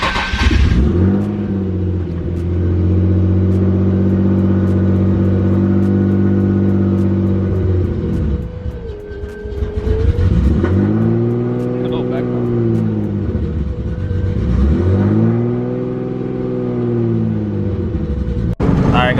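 A Nissan 350z on stretched tires accelerating onto a freeway, the engine droning loudly then rising through repeated revving sweeps with gear changes, heard from inside the car while someone talks over it.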